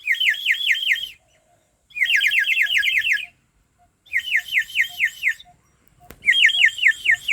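A warbling, trilling bird-like whistle from a water-filled toy whistle blown in four bursts of about a second each, with short silent gaps between them.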